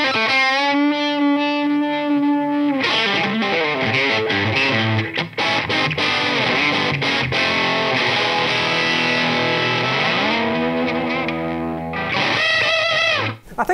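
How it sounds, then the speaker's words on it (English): Distorted electric guitar, an Epiphone Les Paul Special with dual P90 pickups, playing thick, gritty riffs and chords continuously, loud and up close, with a brief pause near the end before a final ringing phrase. "sounds I can get out of the amazing Epiphone Inspired by Gibson Les Paul Special"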